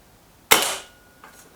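A single sharp crack from a Kral Pro 500 air rifle fired at a target, with a quick decaying tail and a couple of faint clicks afterward.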